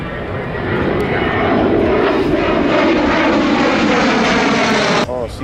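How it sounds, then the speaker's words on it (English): A Boeing C-17 military transport aircraft flies past, a loud, sustained engine roar that swells and holds close by, with a brief cut near the end. "Oh, C-17 in the background."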